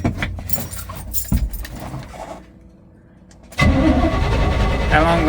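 A small motor cranks and sputters after a new carburetor has been installed. The cranking rattles at first, dies away to a near-silent pause, then catches into a steady, loud running drone.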